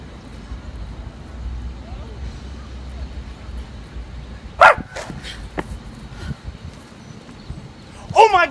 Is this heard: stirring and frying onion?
no